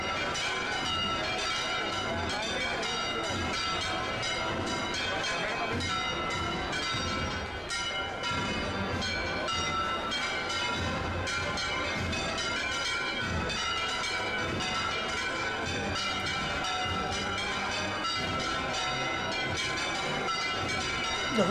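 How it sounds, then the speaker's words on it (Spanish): Church bells ring without pause during a Holy Week procession in Córdoba, with the Virgen de la Palma carried under a canopy; the dense, continuous clangour fills the air as a loud, unbroken wash. "No, y no paran las campanas."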